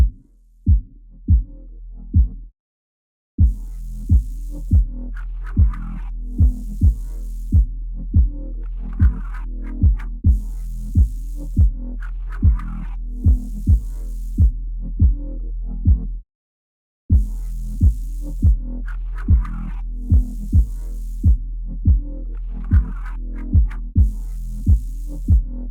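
A kick drum thumps in a steady, evenly spaced beat under a deep, sustained electronic bass line in a music mix, loud and close, with two brief dropouts to silence.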